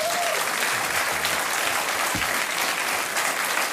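A television studio audience claps steadily and fairly loudly throughout, a dense wash of applause with a faint murmur of crowd underneath.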